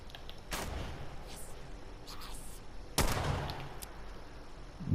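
Gunfire in the post-apocalyptic video game Fallout 76: two sharp, loud shots a couple of seconds apart, each with a decaying tail, with faint game ambience in between and no speech.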